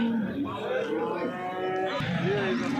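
Cows at a cattle market moo in long, close, loud calls, one lowing through most of the stretch and another rising near the end, over a busy crowd murmur.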